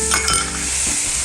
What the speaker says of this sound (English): we're just gonna saute these